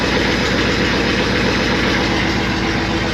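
A running engine with a dead miss on one cylinder, loud and close, a continuous uneven idling rumble with no voices.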